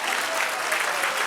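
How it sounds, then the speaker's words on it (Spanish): A church congregation breaks into steady, dense applause during a sermon, a continuous wash of many hands clapping together at close range with no talk over it. "Denle un aplauso al Señor."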